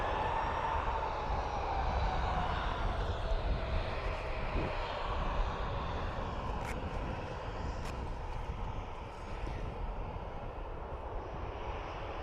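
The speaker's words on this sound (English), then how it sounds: "So, Ryanair off to Rome." Ryanair jet airliner climbing out of Dublin Airport bound for Rome, a broad, continuous engine roar heard from a distance with a faint whine sliding downward as it departs.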